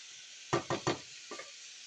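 Chinese sausage cooking in a pan, with a faint steady sizzle broken by three quick stirring scrapes and then two softer ones.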